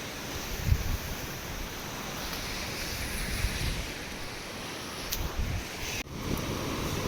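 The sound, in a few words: sea waves at Kelus beach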